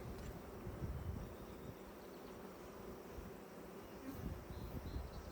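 Honeybees buzz steadily at an open Langstroth hive during a brood frame inspection, a dense, continuous drone close by with no talk.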